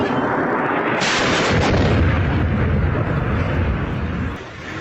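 A heavy blast erupts into a long, rolling roar that stays loud and dense for several seconds, like a big explosion at mid distance.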